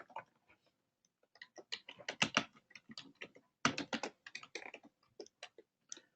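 Computer keyboard typing close up, irregular bursts of crisp key clicks with short pauses between words, quiet room with no talking.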